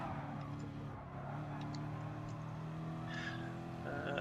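Engine of a Peter Brock VS race car in a sim racing game, a steady harmonic drone held throughout at a constant loud level, with faint higher tones drifting over it and no clear talk.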